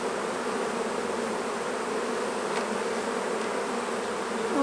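A dense swarm of honeybees buzzes continuously around an opened hive during a merge of a strong swarm with a weak colony, a loud, even hum close by.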